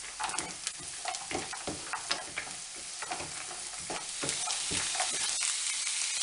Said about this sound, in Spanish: vamos a añadir los frutos secos. Y los vamos a saltear.